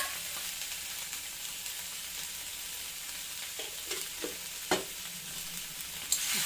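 Ivy gourd with curry leaves sautéing in a kadai gives a steady, quiet sizzle and crackle, with a few louder scrapes of stirring near the end and no voices.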